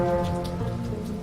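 Steady light rain patters and hisses evenly throughout, with a low rumbling undertone and no voices, forming a continuous backdrop of drizzle.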